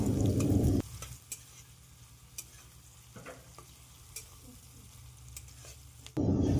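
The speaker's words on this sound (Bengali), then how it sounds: "এবারে আমরা পেঁয়াজগুলোকে লাল লাল করে ভেজে নেব।" Chopped onions with green chilli and a bay leaf fry steadily in a pan for a chicken dish, a continuous soft sizzle under occasional stirring scrapes, with a louder burst at the start and end.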